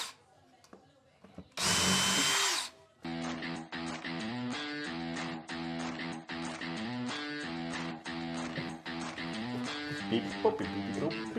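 Power drill installing stair rods on a carpet runner, one short whirring burst followed by steady background music that carries on to the end.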